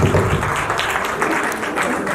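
Brief burst of applause for child performers at a community stage event, a dense crowd clapping steadily for about two seconds.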